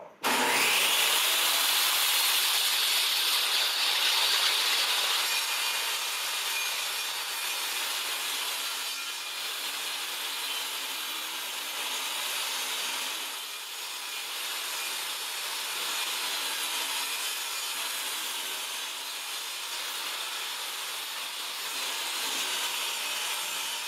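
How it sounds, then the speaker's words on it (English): Saw cutting a clean edge on a wooden cutting board in a woodshop, a continuous loud whining cut that starts abruptly and holds steady for over twenty seconds, with no talking. "we're going to put a clean cut on this edge of one of the sides that we're going to do the inlay"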